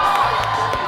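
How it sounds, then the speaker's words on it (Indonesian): Brief burst of TV studio audience cheering and whooping, loud and bright, with rhythmic thumping underneath. "Tepuk tangan dulu untuk Komandan Andre."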